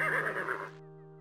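A horse neighs in the adventure game Conquests of the Longbow: The Legend of Robin Hood. The whinny is short and close and fades after under a second, leaving a steady sustained tone.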